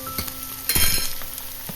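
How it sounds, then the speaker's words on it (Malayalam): Chopped onion for a Kerala-style sweet potato curry sautéing in a pan, loud close sizzling with scattered stirring clinks and a burst of hiss midway as the pieces are tossed. "ഒരു മീഡിയം സൈസ് വലിയുള്ളി ചെറുതായി അരിഞ്ഞത് കൂടി ചേർത്ത് കൊടുക്കാം"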